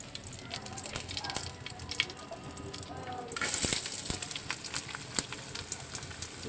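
Mustard seeds and curry leaves frying in hot oil for a potato-onion sabji give a steady close crackle and sizzle with scattered sharp pops, swelling louder for a moment midway.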